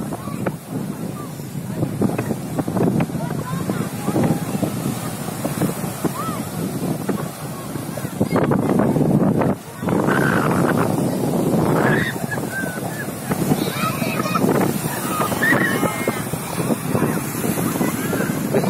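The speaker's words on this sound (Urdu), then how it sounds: "بہترین ہوا چل رہی ہے, ہوا کی آواز آ رہی ہے اور دریا کے پانی کی بھی آواز آ رہی ہے" Gusty wind and rushing river waves at Majunga, Africa, a continuous broadband roar with surging swells, faint distant voices of bathers, and a sudden brief lull midway.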